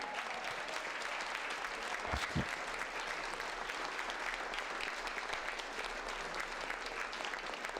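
Audience applause for a women's panel at a Parkinson's fundraising event in Reno, dense sustained clapping from a crowd that holds steady for several seconds, loud and close, with no talking over it.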